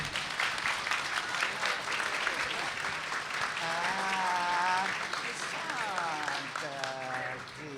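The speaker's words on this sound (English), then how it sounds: "that's totally worth an applause, ladies and gentlemen." An audience at a sci-fi convention in Gothenburg breaks into applause, dense clapping that carries on as someone speaks and voices rise over it in the second half.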